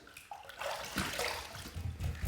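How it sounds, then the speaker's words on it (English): Tap water runs and splashes into a sink while a face is rinsed after a shave, a close, steady gush with small splashy shifts. "Let's rinse."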